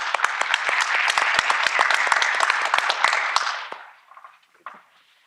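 A seated audience at a geosciences entrepreneurship and innovation panel applauds as a drone company director is welcomed to the stage; dense, even clapping with sharp individual claps stands out, then stops abruptly, leaving a few faint murmurs.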